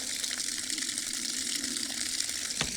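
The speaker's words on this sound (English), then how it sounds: "And a whole lot of water should start gushing out." Water gushes from a disconnected pump filter line at an off-grid site, a loud continuous hissing splash that holds steady and close, with no talking.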